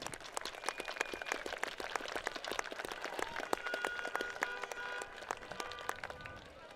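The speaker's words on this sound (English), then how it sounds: "Let's give him a round of applause" Stands at a Gordon-Rushville versus Hershey Panthers football game fill with sustained clapping for a rescue squad member, a broad crackling wash of applause with a few cheers and whistles threaded through it.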